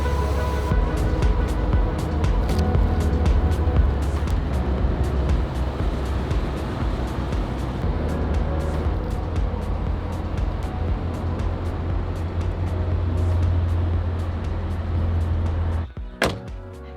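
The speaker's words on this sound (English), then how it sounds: "Going to get back in the car, go for a little more of a drive" A Porsche 356 on the move through the Alps near Gstaad, its engine droning steadily and closely with road and wind noise for about sixteen seconds before the sound cuts away.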